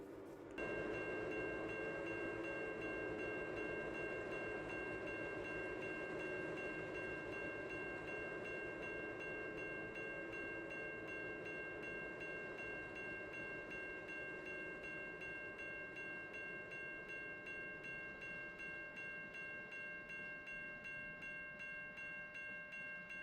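Trains roll along steadily in a video game, with a sustained rumble, faint rhythmic wheel clicks and a bright tonal hum held for the whole stretch, fairly quiet and without talk.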